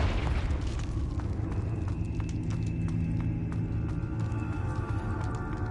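A Confringo blasting spell bursts in Hogwarts Legacy: a broad boom at the start gives way to a steady rumbling wash dotted with faint pops and crackles.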